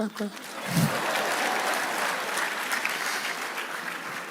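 Sustained applause from a conference audience, steady and dense throughout with a brief louder burst near the start, the clapping close and continuous.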